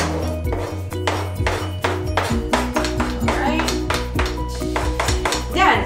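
Hard-boiled eggs dropping into a bowl of washed lettuce and arugula for an Italian salad appetizer, a loud, steady run of close clattering knocks and clinks against the bowl, with no voices.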